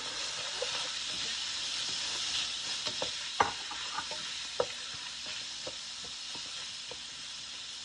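Onion sautéing in a pan for a Filipino beef tongue and mushroom dish: a steady broad sizzle and hiss with scattered sharp clicks and scrapes of a utensil stirring, moderately loud and close, with no talking.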